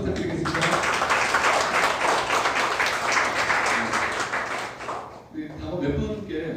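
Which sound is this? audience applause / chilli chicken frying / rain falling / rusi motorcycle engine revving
audience applause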